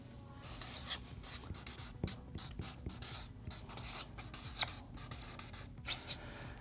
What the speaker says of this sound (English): I'm going to write that down here.